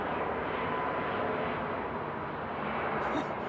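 A De Havilland Canada Dash 8 aircraft at Frankfurt Airport, a steady, broad engine roar holding at an even level throughout, moderately distant.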